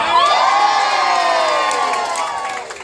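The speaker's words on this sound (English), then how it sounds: "And all of you cheer!" A theater audience cheers and shouts loudly at a comedic Macbeth performance, a sustained burst of many voices that holds steady for a few seconds and then fades slightly at the end.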